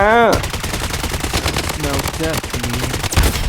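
Rapid automatic fire rattles almost nonstop in the shooter game Blood Strike, loud, dense bursts of shots with a brief voice at the start and a heavier hit near the end.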